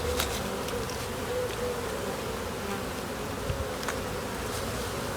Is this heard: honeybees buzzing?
yes